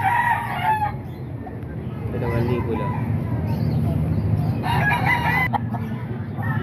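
Young roosters for sale at a Baliwag, Bulacan market crow repeatedly, several loud calls overlapping with clucking from nearby fowl, while someone talks over the noise.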